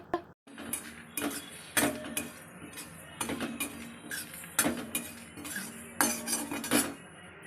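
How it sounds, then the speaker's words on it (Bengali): Whole cumin seeds and dried red chili dry-roasted in a wok, stirred with a metal utensil that clinks and scrapes against the pan in repeated loud strokes, with no talk. "আমি কড়াইয়ে গোটা জিরে আর শুকনো লঙ্কা শুকনো খোলায় নেড়ে নিচ্ছি"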